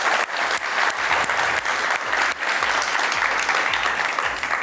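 A studio audience bursts into sustained, dense applause for a few seconds, close and steady with rhythmic clapping throughout.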